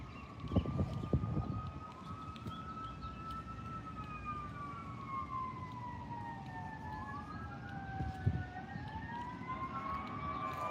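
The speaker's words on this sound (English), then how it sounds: "A fire truck siren is starting right there." A fire truck's wailing siren rises and falls continuously over low traffic rumble, a second siren tone overlapping it, with a couple of brief thumps.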